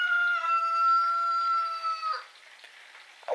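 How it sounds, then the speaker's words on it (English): A single rooster crows loudly in one long drawn-out call, then fades into quiet background noise. "I wonder if that's the rooster my wife likes or one she don't like."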